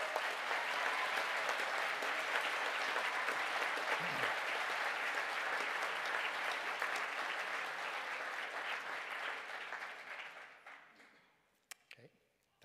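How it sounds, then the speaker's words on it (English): A graduation ceremony crowd gives a long, steady round of applause for the Computing and Digital Media class, dense clapping that fades out near the end, followed by a few isolated claps. "Could I ask the class of the Bachelor of Science in Computing and Digital Media to stand for a well-earned round of applause"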